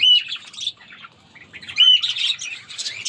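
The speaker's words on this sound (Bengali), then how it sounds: "এই যে আমাদের ককাটেল, এই যে আমাদের লাভবার্ডের বাচ্চা হয়েছে অনেকগুলা" Pet cockatiels and lovebirds chirp and squawk close by in bright, shrill bursts, with brief gaps between clusters of calls and no talking.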